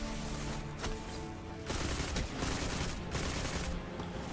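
Dense, sustained gunfire from a Destiny 2 firefight: overlapping automatic bursts and shots roll on without pause, loud and close, with no talking over them.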